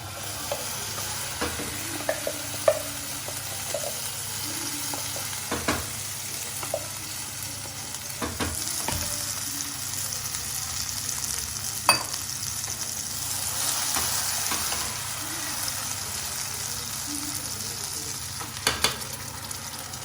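Roasted gravy made with desi ghee for malai chaap fries in a pan with a steady, close sizzle. Occasional scraping stirs break through now and then, and nobody speaks.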